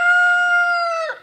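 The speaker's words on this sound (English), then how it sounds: "Damn roosters are bantering." A single rooster crow rings out close and loud, one sustained tonal call that holds steady then drops and breaks off at the end, with nothing else around it.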